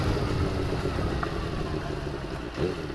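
A 2000 Kawasaki ZX6R 600 with a carbureted engine runs steadily at idle close by, a dense continuous mechanical drone with light clatter and no talk.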